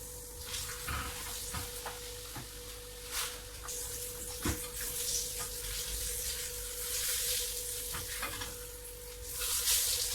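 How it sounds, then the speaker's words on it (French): A steak sizzles and crackles steadily in hot oil in a frying pan, with a dense, continuous frying hiss and scattered pops throughout, fairly close and with no talking. "on vient mettre notre steak."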